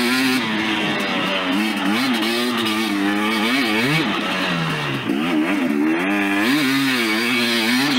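A 2019 KTM 250 XC two-stroke dirt bike engine revs loudly and continuously, its pitch rising and falling through repeated throttle blips, close by.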